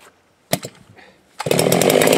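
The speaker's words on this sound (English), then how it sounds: "I'm gonna run the 54 millimeter Chinese saw" A 54 mm Chinese chainsaw fires up after a couple of sharp pulls and bursts, then runs loud and steady, close by, with no talking.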